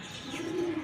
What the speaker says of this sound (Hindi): हमारे पिजन चार छत के ऊपर बैठे हैं और यहीं पे घूम रहे हैं।